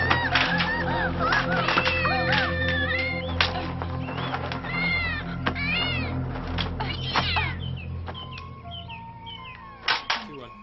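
Kittens in the movie The Heroic Trio mew repeatedly in high, wavering cries over a droning film soundtrack, several overlapping meows rising and falling before fading near the end.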